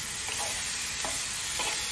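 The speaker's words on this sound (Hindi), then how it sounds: "मैंने प्याज मिर्च छोकी है।" Onion and chili sizzle steadily in a hot pan, a constant loud hiss with a few soft stirring scrapes.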